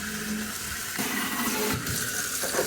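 Running tap water splashes steadily over an LED headlight bulb being rinsed clean at a sink, a continuous close hiss that shifts in tone as the bulb moves through the stream.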